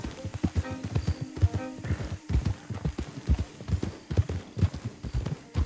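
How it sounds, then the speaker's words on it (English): Steady hooves clop in an uneven trotting rhythm at close range, with a brief horse whinny early on and no speech, from the video game Red Dead Redemption 2. "Don't want the horses clopping around outside the window."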